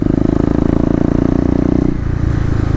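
A Kawasaki KLX250 motorcycle engine runs loud and close in a city street, throbbing in a rapid even pulse through bouncing wheelies, then the note drops off near the end as the throttle eases.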